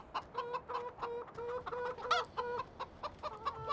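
Chickens clucking in Farming Simulator 2017, heard as a close series of short, rhythmic clucks and pitched bawks from several fowl, moderately loud with no speech.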